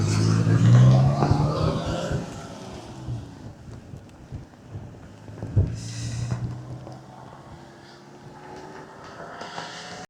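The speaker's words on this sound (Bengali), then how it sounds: "আজকে বাতাসের সাথে লড়াই শেষ হইতেছে না" Wind gusts outdoors in Saudi Arabia, buffeting the microphone with low rumbling blasts, strongest at the start and again midway, easing to a softer rush between gusts, with a faint voice now and then.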